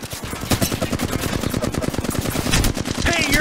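Rapid automatic gunfire rattles in a fast, continuous stream during an Apex Legends match, loud and close, with other shots and game effects layered in.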